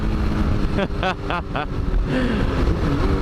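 A dirt bike engine revs hard while being ridden through a corner, rising in quick pitch sweeps over a continuous, loud engine drone.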